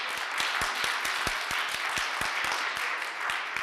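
Applause from the public gallery in a Saguenay city council meeting room, a steady wash of many hands clapping with sharp individual claps standing out, fairly even and sustained throughout.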